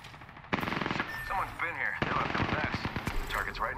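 Rapid machine-gun bursts from a video game rattle in quick rhythmic volleys, with a short pause between bursts, mixed with other game effects and chatter.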